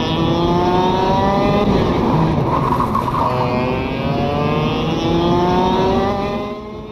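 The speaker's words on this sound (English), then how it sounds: "The audio is loud and very authentic and representative of real-life kart racing." Racing kart engine from the KartKraft VR racing sim, loud and continuous, buzzing and revving up and down through gear-like pitch sweeps with no talk over it.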